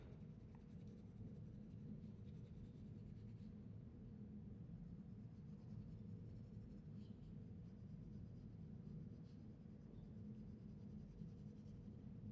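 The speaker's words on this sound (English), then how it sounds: "I'm holding the pencil on its side so you can get like a longer, kind of smoother area" Cheap coloured pencil held on its side, shading across paper in a steady, continuous soft scratching that runs evenly throughout, close and quiet with no talk.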